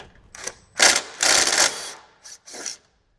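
Ratchet and driver working T40 bolts on a 2014-or-later Harley-Davidson Touring during a stereo install, short bursts of close clicking and grinding turns separated by pauses.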